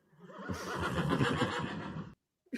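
A single loud horse whinny rises close by and sustains for roughly a second and a half before breaking off, followed by a brief burst of a new sound at the very end; no speech.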